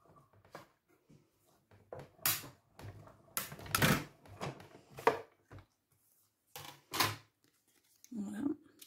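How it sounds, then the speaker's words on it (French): A craft punch cuts through paper while a small envelope is made for a Valentine's card, giving several crisp, close clicks and snips separated by short pauses, with brief handling rustle between them. "je vais le découper avec le poinçon pour faire une petite enveloppe"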